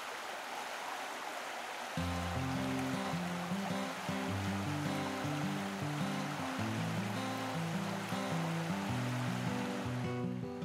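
A river being crossed on foot by a mother and her children on their way to school, with steady rushing water throughout under a continuous musical backing that begins about two seconds in.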